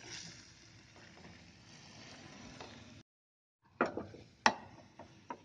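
Moong dal halwa stirred in a kadai, a steady soft scraping for a few seconds, then a pause followed by several sharp clinks and knocks of the spoon against the pan.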